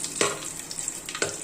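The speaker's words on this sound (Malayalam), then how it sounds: "മുന്തിരിയൊക്കെ നന്നായിട്ട് ഫ്രൈ ആയി വന്നിട്ടുണ്ട്" Raisins fry in a pan for jackfruit payasam, a soft steady sizzle broken by two brief scraping stirs of a spoon.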